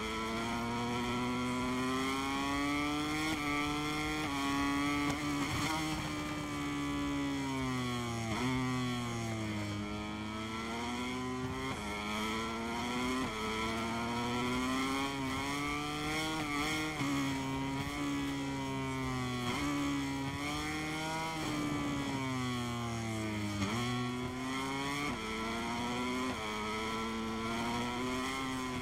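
Racing motorcycle engine in the MotoGP 23 video game, screaming high revs that rise and fall repeatedly through gear shifts and corners, loud and continuous for nearly thirty seconds with no talk.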